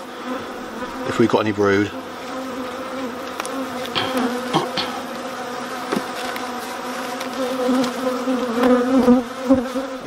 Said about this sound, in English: You can see I've still got a few bees buzzing around me.